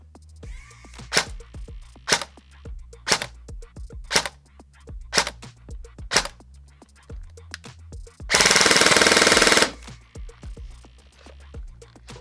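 Echo1 P9 electric airsoft rifle running an 11.1 V LiPo battery and 0.20 g BBs: seven sharp single shots at a steady pace, then a loud full-auto burst of about a second, close up with no talk.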